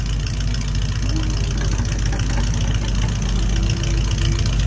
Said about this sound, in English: Charlie's getting ready to head out of here in the Model A